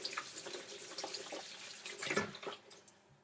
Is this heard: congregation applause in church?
no